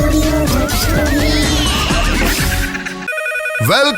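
A telephone ringtone during a Gujarati radio comedy show, an electronic melodic ring sounding loud and close, playing a few seconds and cut off by a short jingle-like sweep at the end, with no talking.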